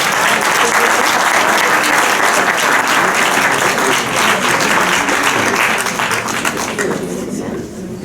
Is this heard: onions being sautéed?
no